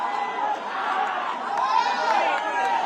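Crowd of fans cheering and chattering inside the Kamala theatre, a dense, steady roar of many voices that stays loud and continuous throughout with no single voice standing out.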